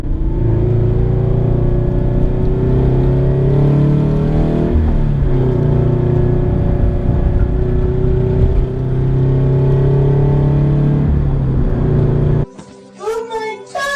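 A 2013 Scion FR-S drives and accelerates along a curvy road, its engine droning and rising in pitch through the gears with steady road rumble, then cut off abruptly near the end as a voice comes in.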